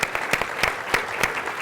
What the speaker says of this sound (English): let's give Newt another big round of Texas applause